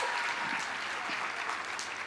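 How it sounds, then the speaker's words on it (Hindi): An audience at an AWPL business gathering in Kota applauds in a steady, dense wash of clapping from a large crowd, continuous and fairly loud. "रामवीर सर के लिए भी एक बार तालियां होनी चाहिए"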